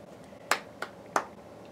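Three sharp hand claps in quick, slightly uneven succession, close and crisp against a quiet room.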